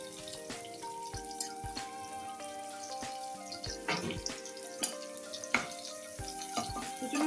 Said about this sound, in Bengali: তেলটা গরমই আছে, তাতে দিয়ে দিব কুচনো পেঁয়াজ।